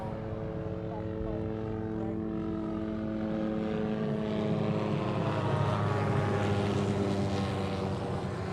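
A U-2 aircraft flying over Honolulu airport, a loud, steady jet roar with a slowly shifting pitch as it passes, heard up close with a faint outdoor background.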